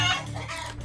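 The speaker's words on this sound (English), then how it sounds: "even chased the castle's hens around the courtyard to get them clucking" Hens in a castle courtyard give a brief, close burst of clucking lasting under a second.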